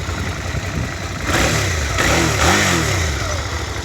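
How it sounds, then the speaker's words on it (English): Suzuki SV650 V-twin motorcycle engine revved a few times from idle, the rising harmonics swelling twice over a steady low rumble, close and fairly loud with no talk. "It's a V-twin. I'll rev it up a little bit."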